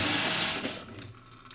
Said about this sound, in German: Und mit kaltem Wasser könnt ihr jetzt die beiden schön durchspülen